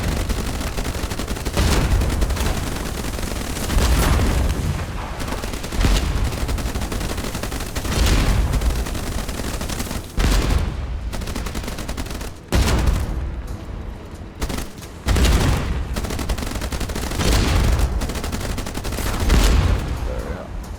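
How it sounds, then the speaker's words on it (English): Cannon fire in the naval combat game Age of Water: repeated loud booming shots in quick bursts, with some gaps, running steadily across the clip. "I love the cannon."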